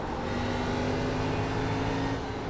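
A race car engine in the iRacing sim, driven at New Richmond, holds a loud, steady drone near the corner entry, with no talk over it.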